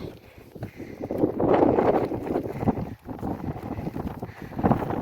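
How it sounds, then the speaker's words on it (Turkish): Strong gusting wind outdoors in a village, roaring and buffeting against the microphone with swells and brief lulls and no talk. "bura çok esiyor ama"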